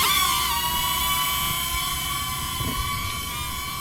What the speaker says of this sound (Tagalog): The drone will just follow you.